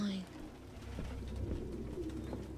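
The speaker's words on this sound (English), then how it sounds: "No human could live with all these fucking pigeons." Pigeons coo softly in the video game Detroit: Become Human, with faint throaty calls under a low ambient hum and some quiet talk.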